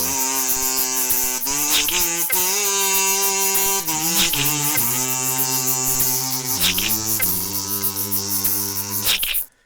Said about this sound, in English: I started improvising with the kazoo, and I came up with this little.